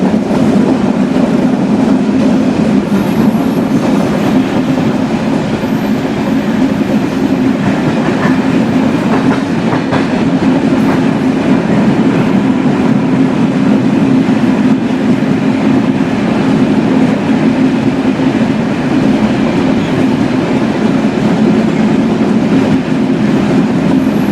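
The Banalata Express thunders along steadily at about 95 km/h, a continuous loud rumble with rhythmic clattering of wheels on rails throughout, no voices.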